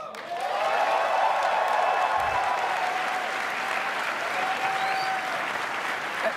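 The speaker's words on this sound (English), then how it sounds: "Please, a round of applause." Sustained audience applause at a gaming convention event, a dense steady clatter of many hands clapping for several seconds, loud and close, with no one speaking over it.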